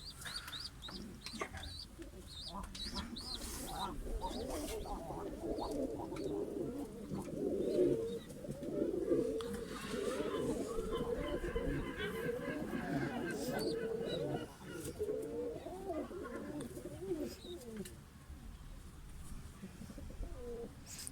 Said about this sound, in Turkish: Kuşlara bakın. Çok eski soy.